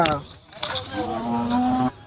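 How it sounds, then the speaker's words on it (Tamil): Bargur hill breed cattle and calves moo at the Anthiyur temple chariot festival in Erode, one long, loud low bellow following shorter calls amid crowd noise. "பர்கூர் கண்ணுக்குட்டிகள் மலமாட்டை சேர்ந்த கண்ணுக்குட்டிகள்"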